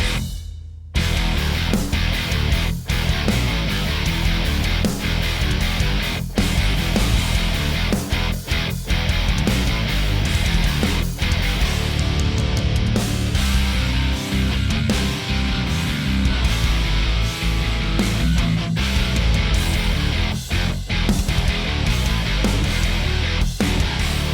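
A loud, dense rock section with heavy distorted guitars and driving bass, full band playing continuously throughout with no voices.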